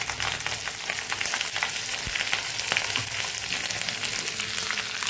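Steady crackling sizzle of cumin seeds frying in hot oil, with small pops scattered throughout.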